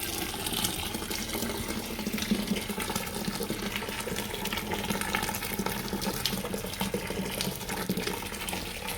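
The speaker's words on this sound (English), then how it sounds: "You keep pouring the hot water." Hot water from a kettle being poured onto millet, a continuous close splashing and trickling stream that stays steady throughout with no talking.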